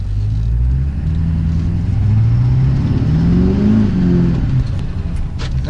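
A 2004 Chevy Duramax diesel truck accelerates hard, its deep engine rumble rising in pitch and staying loud and close throughout, with no talking over it.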